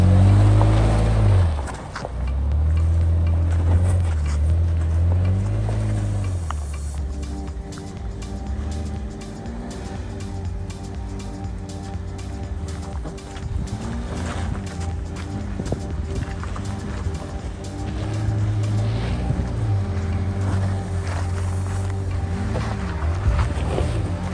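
A VW Atlas Basecamp SUV climbs a steep dirt trail, its engine droning steadily and close with bumps and rattles from the rough ground, and no talk.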